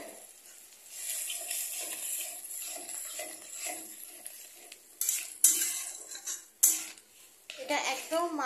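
Water poured into a pot of potato curry with peas while cooking, with pouring and splashing, a few sharp clatters of utensil against pot, and stirring sounds close by.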